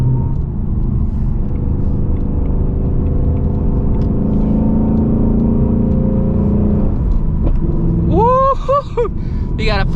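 A 2024 Ford Mustang GT fitted with headers drones with a loud, steady engine rumble through shifts, with a voice calling out near the end.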